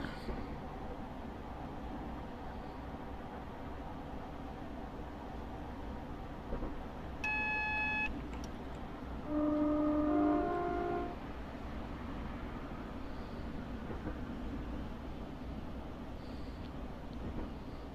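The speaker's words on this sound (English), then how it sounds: "So we'll keep coasting fairly slowly until I can see what this signal is." A Class 465 electric train in Train Simulator Classic coasts slowly with a low, steady rolling rumble, and a short two-tone horn sounds midway through, with no voices.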